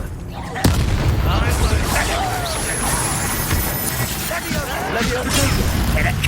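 Confringo blasting-spell explosions burst through a Hogwarts Legacy battle at Feldcroft, loud booms and crackling blasts layered densely over continuous combat noise, with a sharp impact near the start.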